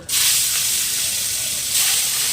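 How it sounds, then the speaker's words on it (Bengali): Pieces of hilsa fish slide into hot oil in a wok and set off a loud, steady sizzle and hiss that swells again near the end, with no talking. "কড়াই তেল দিয়েছি এবার আমি মাছগুলো দিয়ে দিব"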